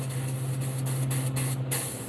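Airbrush spraying paint onto a realistic largemouth bass model, the brushes dirty and not flowing evenly: a steady close hiss with a low hum beneath, interrupted by several short spurts and pulses.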